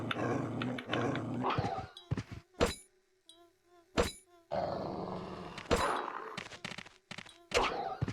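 Dog growls and barks from an enemy dog in Resident Evil Code Veronica, loud bursts mixed with knife thunks and combat noise, with a brief quiet gap in the middle.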